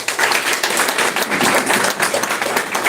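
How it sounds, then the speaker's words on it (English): Steady applause from an audience at a lecture and workshop, dense clapping filling the whole stretch at an even loudness with no voices on top. "A big applause to them."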